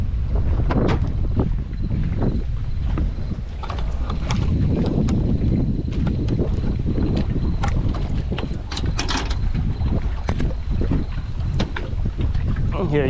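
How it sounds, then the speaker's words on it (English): Strong tropical storm winds around 50 mph buffet the microphone in a constant low roar, with water sloshing and scattered knocks underneath. "It's a little windy. It is a little windy."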